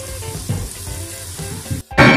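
Chicken gizzards and hearts fry in oil in a pan, a soft, steady sizzle with a few bubbling pops, followed by a brief pause and then a louder burst of hiss near the end.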